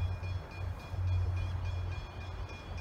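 A Belgrave service train rolls past the Bedford Road level crossing at night, a steady low rumble of wheels and carriages held at moderate distance with a faint high tone above, no voices.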